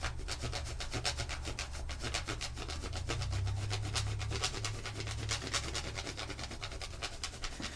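Chocolate bar being shaved for a banana cream cake, a quiet, close, rapid rhythmic scraping that continues steadily throughout with no talking.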